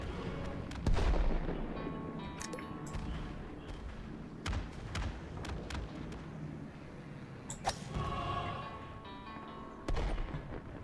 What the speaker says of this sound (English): Holy hand grenade!